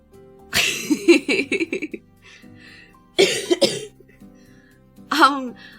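A person coughs in several harsh, chesty bursts, pausing between fits, with a final rougher throat-clearing cough; close and fairly loud.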